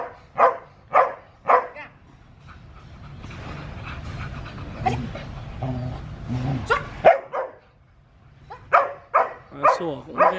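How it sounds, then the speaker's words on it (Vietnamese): A Border Collie barks in bursts of sharp, loud, close woofs, first a rapid series, then a stretch of panting and whimpering with scattered barks, before another quick run of barks. "Sủa cũng ghê phết đấy chứ."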